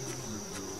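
Steady, continuous insect-like buzzing of flies in the video game Yuppie Psycho, droning alone at a constant moderate level with no talk.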